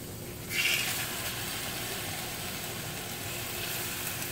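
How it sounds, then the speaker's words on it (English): Chicken meat searing in a pan on a stovetop, a steady broadband sizzle swelling just after the start and then holding evenly close by. "now what I'm doing is just searing my meat a little bit"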